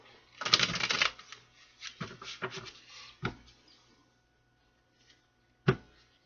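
A Lightworker's Tarot deck is shuffled by hand, a riffling burst followed by a few shorter flicks and taps, then a final sharp snap, close and clear in a quiet room.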